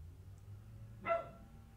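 A single short dog bark, fairly faint and somewhat distant, rises briefly over a low steady background hum with no speech.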